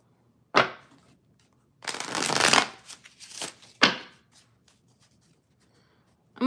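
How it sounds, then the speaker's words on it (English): Tarot cards being shuffled up close: a sharp snap, a long riffling burst, then a few more quick flicks and riffles separated by quiet gaps. "I'm going to do a little extra shuffling for you"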